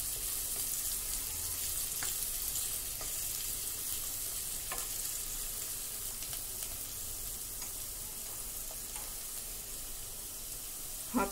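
Aar fish fry in a pan for a kalia, giving a continuous, even sizzle with occasional faint clicks and stirring sounds, and no voices over it.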